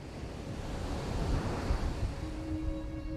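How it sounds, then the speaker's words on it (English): Rolling ocean waves break and wash onto a sweeping golden beach on the Indian Ocean coast of Western Australia, a steady, loud roar of surf with a wind-blown rush over the whole span. "rolling waves break onto sweeping golden beaches"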